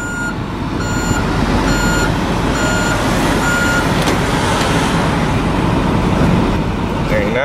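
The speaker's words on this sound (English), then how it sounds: "I don't know if you heard that backup beeper there." Reversing beeper on a 2010 Ford F550 Super Duty XL flatbed truck, repeating in steady evenly spaced beeps over a continuous loud engine and road rumble, with faint speech in the background.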